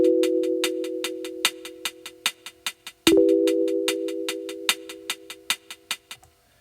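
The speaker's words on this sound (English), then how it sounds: "And now we're gonna move on to the hi-hats." OP-Z drum machine hi-hat pattern with edited velocities ticks in a fast, even sixteenth-note loop, some hits louder than others, over a held synth tone that briefly bends in the middle.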